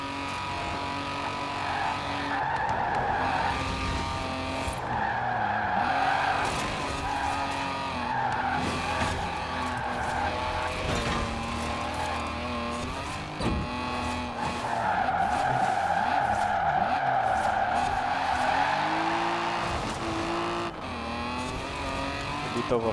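Jaguar D-Type race car cornering hard in Forza Horizon 4, with sustained loud tire squeal and skidding over a steady engine drone, engine pitch rising and falling through the bend, no talk.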